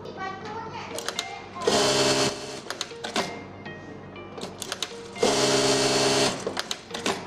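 A JACK A4 industrial sewing machine runs in two loud, fast stitching bursts with a steady whir, separated by clicks and taps of its controls. Someone talks throughout.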